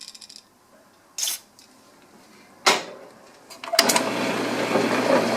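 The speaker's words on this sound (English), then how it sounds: "I've got the drill press running at a little bit slower speed, just for the sake of the reamer" A drill press turns at a reduced speed with a reamer while making wing brackets. A few sharp clunks come first, then a steady broadband machine whir starts and runs to the end.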